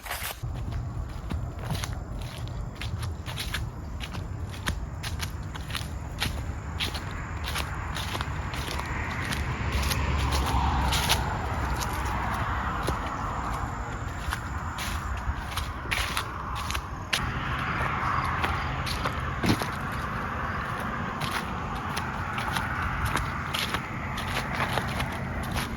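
Steady crunching footsteps of a hiker heading down a trail off a bluff, a continuous rhythmic tread on loose ground close to the microphone with no talking.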